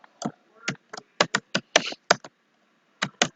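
Typing on a computer keyboard while entering a network switch command, a string of crisp, close keystrokes in uneven bursts with short pauses between them.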